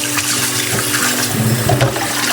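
Food being washed by hand in a basin of water, giving loud close sloshing and splashing with brief gurgles and no talk.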